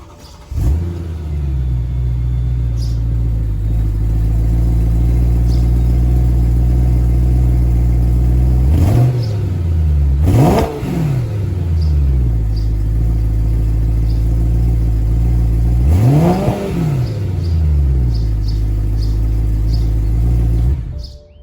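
BMW E92 M3 fitted with a used axle-back exhaust idles with a deep, steady rumble, punctuated by three spaced throttle blips that swell and drop back, heard close and alone.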